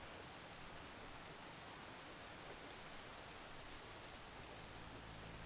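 Steady rain falls in the Horizon Forbidden West game world, a continuous broadband hiss of drops, faint and unbroken throughout.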